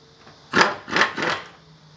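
An air ratchet driven by a Kobalt 30-gallon air compressor tightens lug nuts, giving three quick, close whirring bursts in about a second, with a quiet lull before and after.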